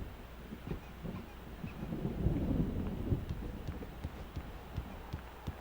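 An approaching thunderstorm in the video game Alan Wake gives a low, rolling rumble that swells and fades, with faint scattered ticks and crackles over it.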